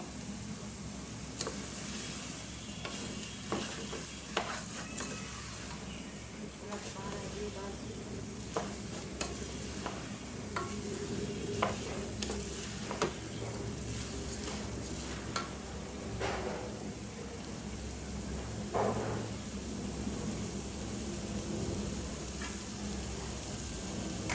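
Rice grains fry and get stirred in a pot for pulao, a soft steady sizzle with scattered scraping ticks from the stirring, fairly quiet and close.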